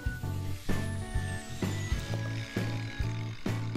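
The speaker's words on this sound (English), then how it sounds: "use the edge of the disc grinder to add a little bit more detail onto the fins" Disc grinder working a wooden fish-shaped picture frame, using the disc edge to cut small notches into the fins; a steady motor whine broken by repeated short bursts of contact, about six strokes at close range.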